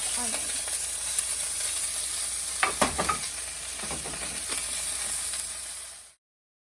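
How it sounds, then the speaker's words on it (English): Spices sautéing in a pan for chili con carne, a loud, continuous close sizzle and hiss with a few stirring scrapes partway through, then cutting off abruptly. "I'm just gonna saute this"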